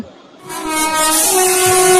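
An express train roars close by at a level crossing, its long steady horn blaring over rumbling wheels and rising in loudness after a brief quieter start.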